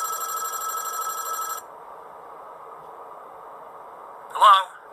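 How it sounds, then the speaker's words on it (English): In the horror game Five Nights at Wario's, a telephone rings with a steady electronic trill for over a second and then stops, leaving a quiet hum before a brief voice sounds. "Is there a phone call? Yes, there is."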